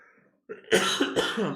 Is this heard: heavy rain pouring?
no